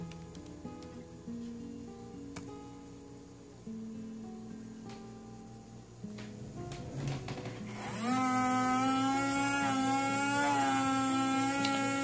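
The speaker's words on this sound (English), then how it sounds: "As you can see, the motor is rotating clockwise, actually anti-clockwise." A small DC motor driven by an Orange Pi board spins with a steady hum and whir that holds a constant tone, then becomes louder and higher-pitched partway through as it runs alone without talk.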